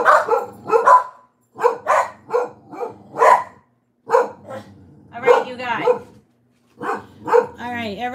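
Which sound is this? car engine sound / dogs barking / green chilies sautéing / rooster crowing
dogs barking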